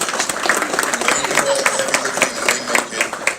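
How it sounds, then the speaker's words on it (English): Audience applause at a Brunswick Exchange Club Student of the Month event, a steady broadband wash of many hands clapping at moderate loudness, with murmured voices mixed in throughout. "let's give them both a round of applause"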